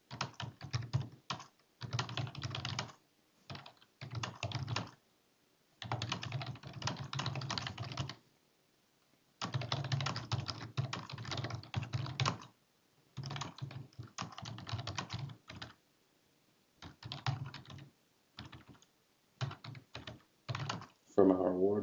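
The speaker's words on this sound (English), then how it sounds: "at the bottom of WD7, the big red number 1, it's asking us to type in our first sentence." Someone types a sentence on a computer keyboard, with close, steady bursts of rapid key clicks separated by short pauses.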